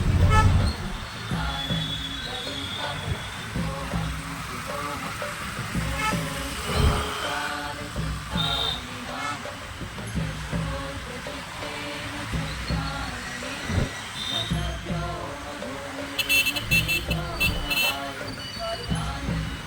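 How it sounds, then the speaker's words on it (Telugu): Busy road traffic on the way to a temple in Kothaguda, Hyderabad: a steady roadway rumble with repeated car horn toots, a cluster of honks near the end, while a person talks throughout. "ట్రాఫిక్ చాలా ఉందండి ప్రస్తుతం టెంపుల్కి వెళ్ళడానికి"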